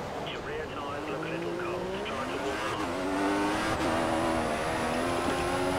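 Formula 1 race cars from the F1 2014 video game at the China circuit, engines whining and shifting at high revs with brief tire squeal, loud and constant, while a person talks over the racing.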